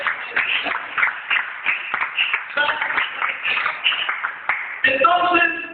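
A church congregation claps during a Spanish-language service, a moderate stretch of uneven clapping with irregular hand strikes. A few voices and room noise sit underneath, and a brief tonal ringing comes near the end.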